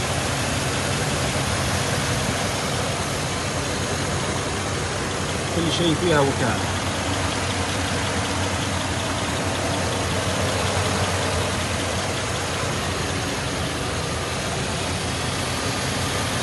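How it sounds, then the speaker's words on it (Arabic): The 6-liter engine of a 2011 GMC Sierra HD pickup truck idles steadily and evenly for the whole stretch, while someone speaks briefly over the rumble. "طبعا السيارة HD ماكينة 6 لتر. هذا تشغيل السيارة"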